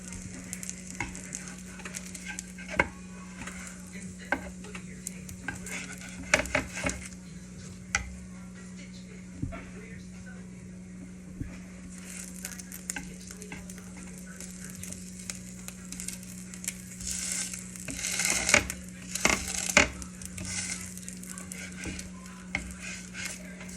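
Bacon frying in a pan gives a steady soft sizzle and crackle, with occasional scraping stirs and pops growing busier toward the end, and no talking.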